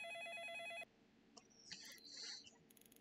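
A telephone rings in a Roblox ice cream shop horror game. A loud electronic trill opens the scene and cuts off abruptly, followed by quieter scattered chirpy game sounds.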